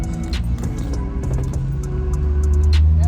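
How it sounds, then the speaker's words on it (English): A new Mercedes C63 with a small four-cylinder engine passes nearby, a steady loud road and engine roar that swells toward the end, with no talking. "There's a new C63 right there. Little 4-cylinder."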